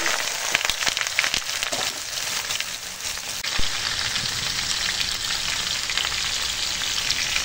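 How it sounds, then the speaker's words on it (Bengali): Pumpkin and potato fry in hot oil with a loud, continuous crackling sizzle close by; a few sharp stirring clicks come in the first seconds. "এখন মিষ্টি কুমড়াটা আর আলুটা ভালো করে ভেজে নেব।"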